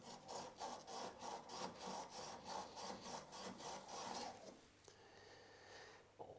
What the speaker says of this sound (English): I would recommend that you remove the burr by rubbing it along a flat bench stone like that.